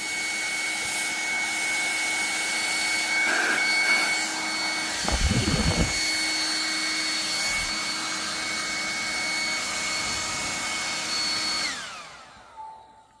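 A Xiaomi H500 hair dryer on its cold setting blows a steady, loud whooshing rush with a faint whine. A few brief handling clicks sound around the middle, and then it cuts off near the end.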